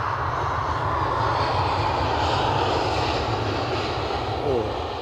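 An EasyJet airliner comes in to land at Edinburgh Airport, its engines a steady, broad roar that holds loud and even throughout, with a faint voice somewhere beneath it.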